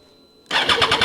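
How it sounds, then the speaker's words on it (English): A Triumph Street Triple motorcycle, first generation, fires up abruptly after near silence, its triple-cylinder exhaust bursting into a loud, close, pulsing rumble. "It's that unique triple sound from the exhaust."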